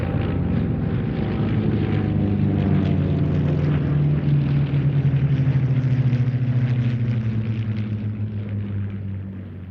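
WWII fighters, including a P-47, two Spitfires and a Wildcat, pass at the Duxford airshow. Their piston engines make a loud, sustained propeller drone whose pitch slowly falls as the aircraft go by, with no voices over it.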